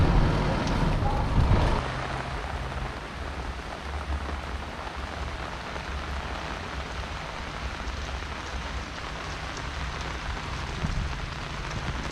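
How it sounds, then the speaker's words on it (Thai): Steady, dense rain falls at a Thai temple with a glazed-tile ordination hall, a constant loud hiss of drops on surfaces, with a brief heavier burst of noise at the start. "ฝนตกนะครับ"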